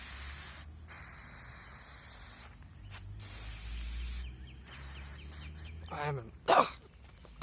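A small pink pepper spray canister being tested, heard as several short hissing bursts broken by pauses, close and fairly quiet, followed by a cough or throat-clearing near the end.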